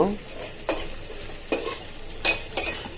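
Dried loitta fish bharta hitting hot mustard oil in a pan, giving a steady close sizzle broken by four sharp stirring scrapes spaced roughly a second apart.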